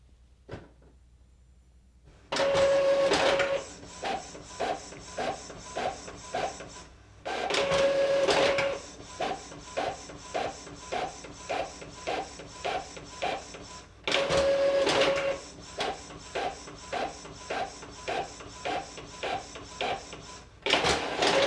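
An Epson EcoTank ET-2400 inkjet printer prints text pages at normal quality, with three cycles each opening on a loud whirring feed and then a run of regular rhythmic head-pass clicks and whirs, separated by short quiet gaps.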